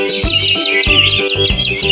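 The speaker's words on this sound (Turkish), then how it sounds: "Gökyüzünde uçan mavi bir kuş" A cartoonish blue bird chirps in a preschool children's song, quick bright tweets repeating in short bursts over a bouncy musical backing.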